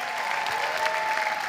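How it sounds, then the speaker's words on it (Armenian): A club audience breaks into loud, dense applause, a steady wash of many clapping hands that lasts the whole short moment. "եկեք մի հատ Տիկոին բարձր ծափարենք"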